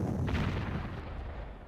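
Artillery shelling in the wartime strategy game Panzer Corps, a single loud rumbling blast that decays over about a second into a low tail.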